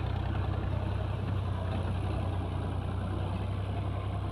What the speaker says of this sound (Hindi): ये ट्रैक्टर करीब आ गया है, इसका शोर भी आपको सुनाई दे रहा होगा।